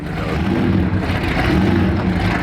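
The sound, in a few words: 800HP blown big block Camaro engine idling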